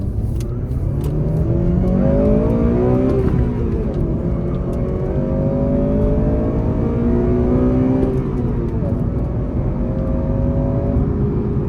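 A Honda Civic Type R FN2 driven hard on a mountain road, its engine revving up and down through rising and falling pitch sweeps, heard loud and close from inside the cabin with no talking.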